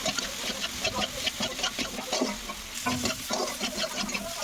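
Fish curry stir-frying in a pan with turmeric and chili powder, a continuous crackling sizzle broken by repeated scraping strokes of a spatula, close and moderately loud, with no voices.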